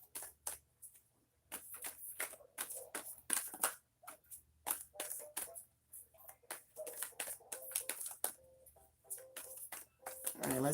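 Tarot cards are shuffled in repeated bursts of crisp riffling and soft slapping, close up, with brief pauses between runs.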